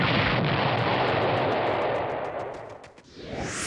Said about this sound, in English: Chili had a little bomb whose button made it go.